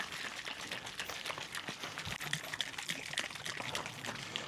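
Hardener pours into a can of red paint, a steady trickling, splashy liquid sound with no talk over it.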